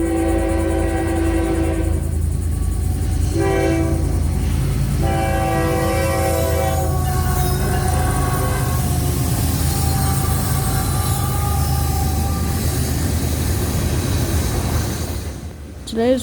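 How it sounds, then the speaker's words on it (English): A long freight train with a large tank-car section rolls past, loud steady rumble of wheels and cars, with repeated horn blasts sounding through the first half and squeals near the end. "let's sit back, relax, and enjoy the freight train"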